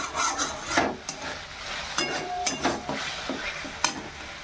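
Masala of onion, ginger, tomato, cumin and coriander powder frying in oil, stirred with a spoon: close scraping strokes and soft sizzling in irregular bursts, with no talk.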